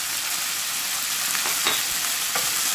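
Crispy pork stir-fried in a hot wok with oyster sauce, sugar and fish sauce, giving a steady close sizzle with a few spatula scrapes and stirring clatters. No voices.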